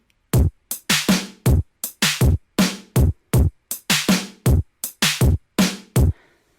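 Busier chorus drum pattern triggered from an Ableton Live scene, with rapid, evenly driving kit hits, roughly three to four per second, alternating deep kicks and bright snare or hat strikes, loud and close with no voices over it.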